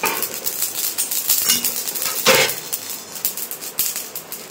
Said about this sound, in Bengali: এখন কিন্তু গ্যাস বন্ধ করে দেবো, দিয়ে কিন্তু একটা প্লেটে ঢেলে নেব